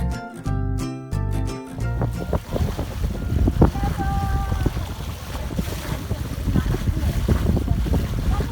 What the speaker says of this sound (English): We've also got the main sail out, fully extended, and we've got the head sail out as well.